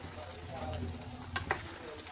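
Mustard greens fry with a steady, soft sizzle in a pan while being stirred, with two brief scraping knocks of the utensil near the end, faint overall, with low background hum.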